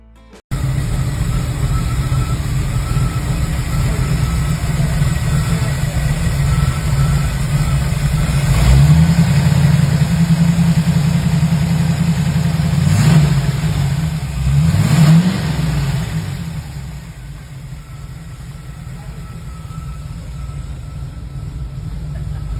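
A VW Beetle kit car with a rebuilt engine idles steadily close by, then revs up in a few short rising bursts before settling back to a lower, quieter idle.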